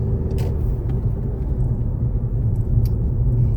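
Evening Friday road traffic in a jam, with a close, continuous low rumble of car engines and a couple of faint rattles and clicks.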